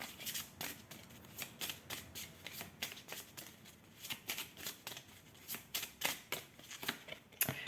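Tarot cards slide and snap down one after another in a steady, quick rhythm while being handled and laid out on a table. The sound is soft and close, with no voice over it.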